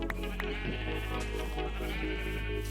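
Sheep in Minecraft bleat repeatedly in short nasal calls over a steady low background hum, several bleats close together across a few seconds.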